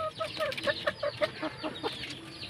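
Chickens on a farm, a rooster and broiler hens, cluck in a rapid run of short calls, close and fairly loud over a soft background hum.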